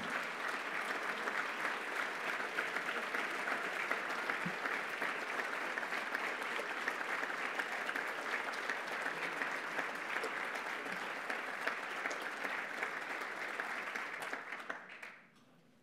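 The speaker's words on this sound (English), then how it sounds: "So let's hear a big round of applause for Paul." A large room of community and business guests at a State of the City address keeps up a long, steady standing ovation, a dense wash of clapping without a break that fades out quickly at the very end.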